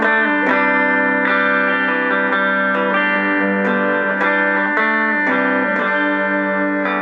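An electric guitar played through a DigiTech Multi Chorus pedal into two amps in stereo plays shimmering, sustained chords with a wide, swirling modulated tone, each strum ringing into the next.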